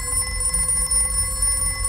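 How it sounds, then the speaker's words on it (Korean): A telephone rings with a steady electronic trill, continuous and fairly loud, heard alone without speech in a themed escape-room setting. "어 전화 왔다."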